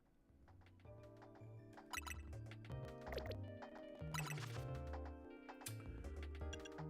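Water Pulse, a water attack in the video game Pokemon Legends Z-A, plays as a faint burst of bubbling, gurgling liquid sounds with small clinking splashes layered through it.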